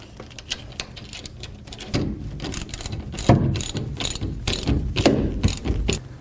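Ratchet tightening a supplied bolt while installing an Access Lorado tonneau cover, giving a close, continuous run of rapid metallic clicks in uneven bursts as the handle swings back and forth.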